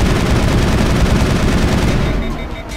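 Sustained rapid gunfire from a weapon in Mass Effect, dense continuous bursts filling the whole stretch loudly before tapering slightly at the end.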